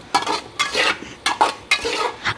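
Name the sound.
stirring and frying potatoes in a pot for pilau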